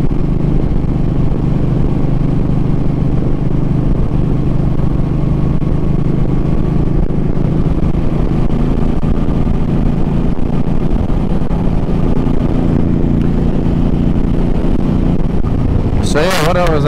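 A Suzuki M50 motorcycle with its stock exhaust, ridden at a steady cruise, gives a continuous loud engine drone with wind rush throughout, and someone talks over it.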